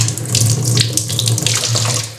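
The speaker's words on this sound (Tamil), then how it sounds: "கொஞ்சம் நல்லா கழுவிட்டு போடலாம்" Tap water runs steadily over a cockroach being rinsed at a sink, a close, continuous splashing stream with no talk.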